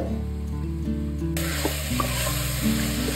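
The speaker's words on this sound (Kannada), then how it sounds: "ಇದಿಷ್ಟನ್ನು ಹಾಕೊಂಡು ಎಣ್ಣೆ ಚೆನ್ನಾಗಿ ರೋಸ್ಟ್ ಮಾಡ್ಕೊಳ್ತೀನಿ. ಇದನ್ನ ಒಂದು ಪ್ಲೇಟ್ ಮುಚ್ಚಿ 1-2 ನಿಮಿಷ ರೋಸ್ಟ್ ಮಾಡ್ಕೊಳ್ಳೋಣ." Mutton biryani ingredients, spice powders and masala, roasting in oil in a pan covered with a plate, giving a steady close sizzle with a brighter burst of frying noise partway through and no talking.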